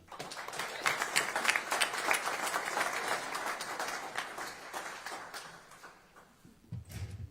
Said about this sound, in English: one more round of applause for this great team